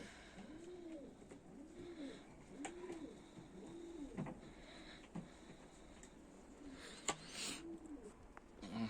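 Pigeons coo softly in a steady series of repeated rolling calls, then a few wing flutters and light scuffles follow near the end.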